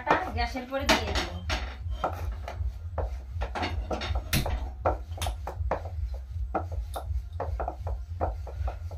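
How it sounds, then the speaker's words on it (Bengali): A tawa griddle set down on a gas stove for frying roti gives close metallic clanks and scraping knocks scattered through the clip, with a voice speaking briefly near the start. "রুটি ভাজার জন্য তাওয়াটা গ্যাসের পরে দিয়ে দেবো।"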